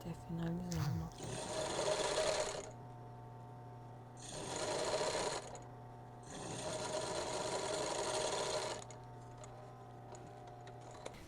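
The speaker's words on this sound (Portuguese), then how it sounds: "Continuar fazendo a nossa costura ali, até finalizar o nosso." Sewing machine stitching the fabric of bra cups, running in three steady bursts of rapid whirring separated by short pauses, fairly close, with faint voice and handling noise before the first run.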